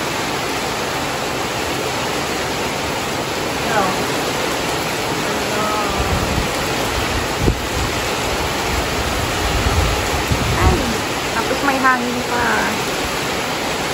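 Heavy rain pours steadily over outdoor garden plants, a dense continuous hiss that runs the whole way through with a few faint birdlike chirps and brief louder patches.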